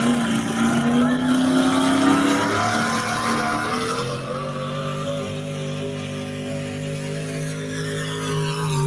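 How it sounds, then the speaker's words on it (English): A Pro Mod 4x4 pulling truck roars at a truck and tractor pull in Madera, California: a loud, sustained engine howl that rises in pitch, then settles into a steady, heavy drone. "So this is James Massetti, Pro Mod 4x4."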